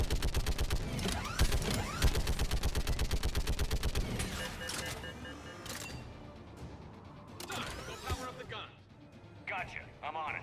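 Rapid heavy-gun fire in Mass Effect 3, a fast rhythmic stream of loud shots for several seconds, then scattered impacts and mechanical clatter as the firing stops.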